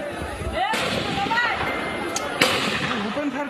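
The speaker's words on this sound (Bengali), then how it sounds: "দুপুরে হঠাৎ এভাবেই গুলির শব্দে প্রকম্পিত হয়ে ওঠে টেকনাফের লেদা বাজার এলাকা।" Gunfire at Leda Bazar in Teknaf, Bangladesh, as border guards fire blank shots during a clash with attackers throwing bricks. A few sharp, loud bangs ring out over a steady background of crowd noise and voices.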